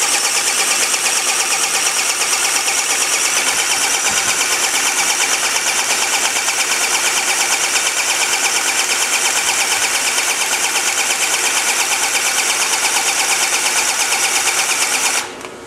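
A pump running at 500 to 1,000 psi drones loud and constant for about fifteen seconds with a steady mechanical hum, then stops suddenly at the end.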